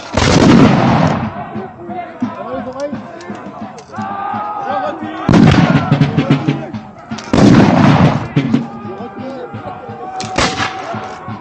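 Musket volleys at a historical battle reenactment of the Montereau engagement, several loud booming discharges with crackling tails at intervals, crowd and shouted commands audible between shots.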